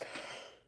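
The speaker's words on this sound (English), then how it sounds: "Coughing is good. Let it come up." A single short cough, close and fairly soft, fading quickly.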